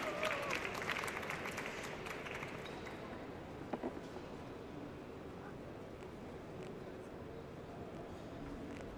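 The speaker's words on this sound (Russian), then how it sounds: "я предлагаю встретить их бурными аплодисментами" Applause from an audience greeting a team as it takes the stage at an innovation-solutions competition final, a burst of clapping in the first seconds that thins and fades into room murmur and movement.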